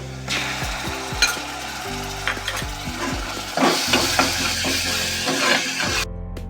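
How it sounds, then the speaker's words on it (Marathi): Ginger-garlic paste goes into an onion tempering for elephant foot yam curry, and a spoon stirs and scrapes the pan over a steady sizzle, with irregular clanks and knocks throughout and no talking. "हे आलं लसणीची पेस्ट घालूया."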